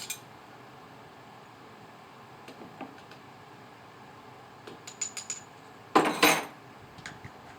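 A spoon stirs applesauce with cardamom and cloves in a pot, making scattered metallic clinks and scrapes against the sides over quiet background noise, ending in a louder burst of clattering.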